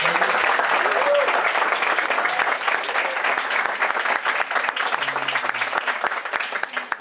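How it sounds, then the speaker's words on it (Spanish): Dense welcoming applause from a church or conference audience greeting guest speakers, steady and loud for several seconds before easing slightly, with a voice faintly audible underneath. "Yo creo que les doy un aplauso de bienvenida"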